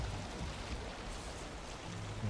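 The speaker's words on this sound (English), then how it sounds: "In a storm, in a boat." Stormy rain hisses constantly around a boat sailing in Valheim, a dense, even wash of falling water with low rumbling underneath.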